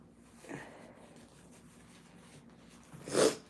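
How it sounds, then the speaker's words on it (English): A quiet room with a brief puff of breath early on, then one short, forceful nose blow close by near the end. "I always have to blow my nose when I'm on camera."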